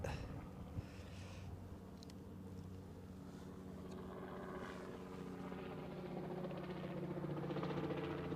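A helicopter's rotor drone builds steadily, a low throbbing thrum growing louder as it passes close overhead.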